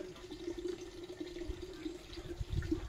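Water running steadily from a tap, a continuous close splash with a faint hum under it and small bumps of handling near the end.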